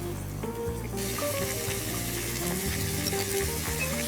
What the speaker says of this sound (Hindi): तो अब इसको प्याज के साथ भूनना है